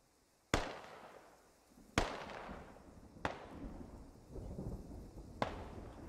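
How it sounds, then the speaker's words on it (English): Smoke mortar rounds land in the military shooter Squad, four sharp booming impacts spaced about one to two seconds apart, each trailing off in a rumbling decay with no talk. "INS throws smoke mortars"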